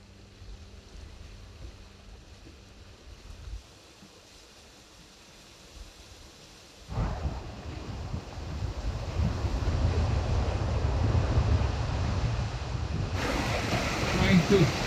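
Sailboat on a downwind sail on Chesapeake Bay, steady wind and the rush of waves, quieter at first, then swelling into loud broadband wash and wind buffeting against the microphone, with a faint voice in the mix.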